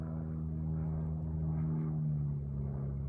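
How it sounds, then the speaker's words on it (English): Steady low propeller drone of an airplane passing overhead, a continuous even hum with no talk over it, holding at constant loudness throughout. "Let's wait for the airplane noise."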